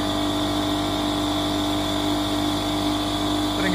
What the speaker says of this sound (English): a video of the blower, the new blower working